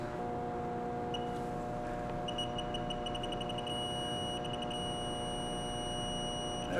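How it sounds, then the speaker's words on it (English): An electronic torque wrench adapter beeps as it nears its target torque, a rapid run of high, evenly spaced beeps that quickens into a steady tone over a constant mechanical hum. "we can see it's starting to beep, so that's letting us know that we are close."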